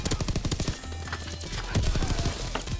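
PPSh-41 submachine gun fire in Call of Duty WW2 comes as rapid, close, loud bursts of automatic shots, with brief pauses between the strings of fire.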